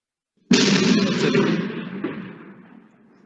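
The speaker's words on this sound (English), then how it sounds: "There seem to be a lot of really loud explosions around you." A single loud, close explosion erupts suddenly, then rumbles and decays over a few seconds into a fading roar.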